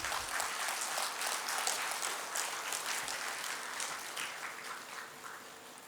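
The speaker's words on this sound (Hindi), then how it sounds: "आज्ञा करताली रे कंजूसी करिवे नहीं" Audience applause at a bird festival ceremony in Odisha, a dense and steady clapping from a crowd that fills the whole clip, easing slightly toward the end.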